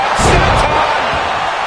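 Step-up senton body slam landing in WWE 2K25 during a women's Royal Rumble, a loud thudding impact over crowd roar with commentary talking over it.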